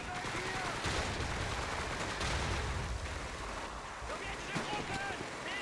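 Dense, continuous battle din from Call of Duty 2: steady gunfire and blasts rolling without pause, with a grenade explosion somewhere in the mix, all at a consistent loud level.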